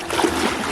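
Water splashing as people wade ashore from a boat into shallow water at Nosy Komba island, Madagascar, a short close burst of sloshing under a busy noisy background.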